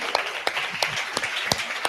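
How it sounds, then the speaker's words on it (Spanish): An audience at a live show at the Lunario claps for guests in a short burst of scattered, sharp hand claps that sounds fairly distant and thin. "les pido un aplauso muy fuerte para nuestros invitados"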